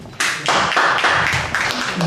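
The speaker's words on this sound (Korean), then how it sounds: "박수가 크게 쳐주세요." A short, loud burst of audience clapping welcomes a panel member being introduced at a human rights groups' forum, many hands beating dense and close for about two seconds.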